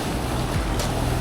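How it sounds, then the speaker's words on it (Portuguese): Ocean backwash as a wave recedes and runs back out to sea, a steady broad rushing wash of water with wind noise, loud and continuous with no voices. "Backwash é essa onda aqui, ó. Ela vai contra, ó. Ela vai lá pro fundo do mar, ó."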